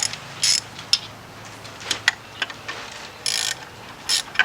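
Metal ratcheting clicks from a wrench loosening the 6mm hex bolts of camshaft alignment tools on a Ford EcoSport/Fiesta/Focus engine, coming in short close bursts with pauses between them.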